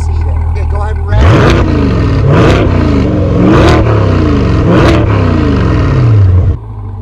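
Corvette C8 with an AWE aftermarket exhaust revving hard from idle, four loud sharp rises each falling back, close and powerful, ending in a quieter idle.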